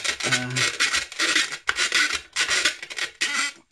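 Harsh, rhythmic scraping and rasping of a screwdriver forced into a gap in hard plastic on an R2-D2 model, in quick repeated strokes, close up.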